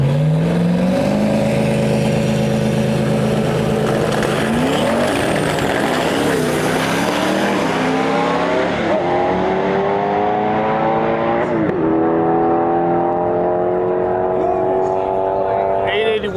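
A drag-racing truck at a drag-and-drive event launches hard, spinning its tires off the line, its loud engine rising and shifting through gears as it pulls away down the strip, with a commentator's voice running underneath.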